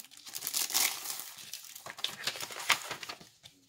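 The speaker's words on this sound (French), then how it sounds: "On n'a plus qu'à les plier en deux comme ceci." Pre-scored 220 g paper card bases, 12 by 16.9 cm, get folded in half close up, giving crisp crinkling rustles and sharp creasing crackles in irregular bursts, with no talking.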